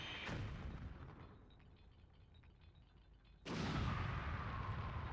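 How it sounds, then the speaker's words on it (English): Explosion in the video game Lylat Wars: a sharp blast opens, its rumble fades, then a second loud burst hits and sustains with dense low roar and crackle, fairly quiet overall. "Best explosion in the game."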